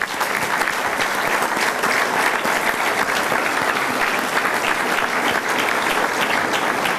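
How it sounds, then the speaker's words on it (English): Audience at the 2013 Denton Hurdle Awards ceremony in Bermuda applauding, a dense, steady wash of many hands clapping at even loudness throughout, with no pauses or talk over it. "I'd like to give a round of applause to them"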